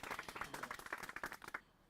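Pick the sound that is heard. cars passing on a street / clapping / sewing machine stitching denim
clapping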